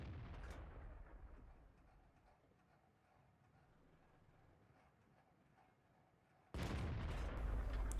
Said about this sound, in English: I make some shots at the VK36 and also on the T43.